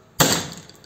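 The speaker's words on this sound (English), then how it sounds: "I like to get the big hammer and give it a good hard" A big hammer strikes a fluorescent light ballast transformer once during copper recovery, giving a sudden sharp, loud crack that fades away over the next moment.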